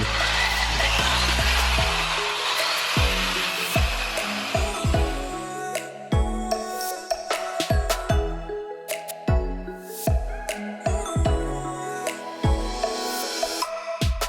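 An angle grinder works surface rust off the body of an old Chevy C10 pickup truck, a loud, harsh, continuous scraping whine broken by repeated sharp bursts and gaps as the disc is lifted and set back on the metal.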